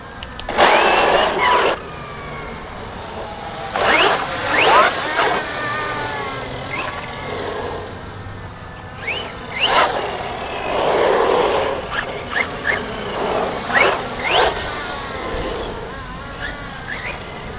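A JLB Racing JLB21101 Extreme RC car drives in bursts, its electric motor whining and rising in pitch as it accelerates, then easing off between runs; fairly close and loud, with no speech.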